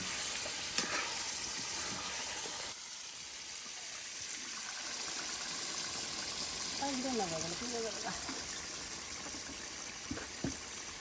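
Pieces of boal fish sizzling in spice paste in a hot pan, a steady close hiss of frying with occasional stirring clatter, while people talk over it.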